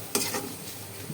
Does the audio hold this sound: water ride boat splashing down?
no